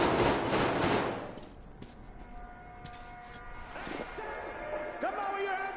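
Gunfire in the Metro video game on PS5: a dense burst of rapid automatic shots up front, followed by scattered thuds and sharper impacts, with shouting voices mixed in.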